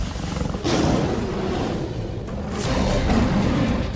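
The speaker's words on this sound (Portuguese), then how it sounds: "O rugido de um leão não é apenas ouvido, ele é sentido também." A lion roars deeply and loudly up close, a continuous rumbling growl that swells and rolls on for several seconds with no other sound over it.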